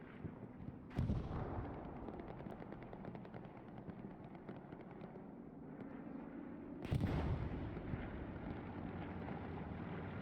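Rocket artillery landing short in Hell Let Loose, a World War II shooter, heard as a continuous rumbling barrage with two heavy impact bursts, near and loud, and no voices.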